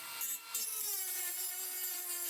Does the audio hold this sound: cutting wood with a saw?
yes